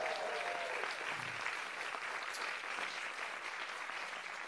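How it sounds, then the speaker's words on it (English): A large crowd at a mayoral debate applauds steadily, a broad wash of clapping that holds at an even level throughout, with a few faint voices mixed in. "You guys can, round of applause, let everybody know you're here."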